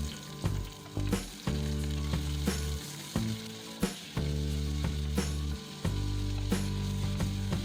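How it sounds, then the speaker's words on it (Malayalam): Chopped onions sizzle steadily in hot coconut oil in a pan for a Kerala cashew nut masala curry, with repeated stirring clatters and scrapes at a roughly regular rhythm, close and fairly loud, with no talking. "അതിലേക്ക് കുറച്ച് വെളിച്ചെണ്ണ ഒഴിച്ച് 2 മീഡിയം സൈസ് സവാള അരിഞ്ഞതിടാം"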